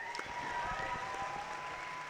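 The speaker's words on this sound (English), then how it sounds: "Ladies and gentlemen, one more round of applause for Kajsa Rosén." An audience at a climbing competition applauds for a climber, a brief steady burst of clapping heard at moderate distance.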